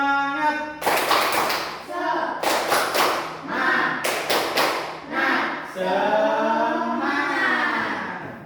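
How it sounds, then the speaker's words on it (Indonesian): A classroom of children performing a rhythmic cheer clap, with bursts of group clapping in a set pattern alternating with loud shouted chanting, close and energetic throughout. "Tepuk semangat."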